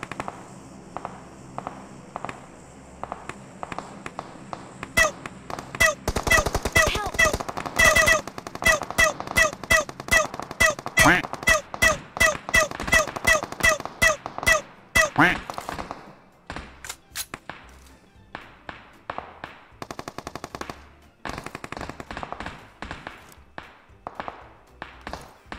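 Rapid gunfire bursts in a PUBG-style shooter video game, dense crackling volleys of shots repeating for much of the stretch, loudest in the middle and thinning toward the end, with quieter tonal game sound beneath.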